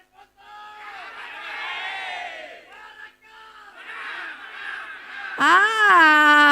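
Supporters at a public debate between regent candidates in Jeneponto, Indonesia, chant their group cheer in sustained, tuneful crowd voices, dipping briefly midway before rising into a louder, full-throated shout at the end.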